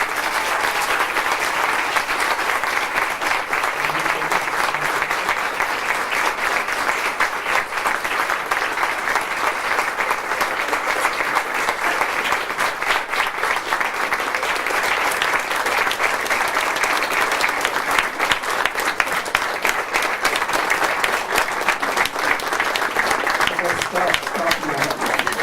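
Sustained audience applause at an ISKCON public program in Zagreb, dense steady clapping from a large crowd that keeps going loud and unbroken for the whole stretch.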